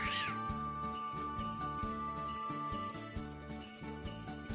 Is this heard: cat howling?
yes